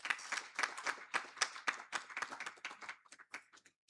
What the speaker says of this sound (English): Please give Grace Obalim a hand clap.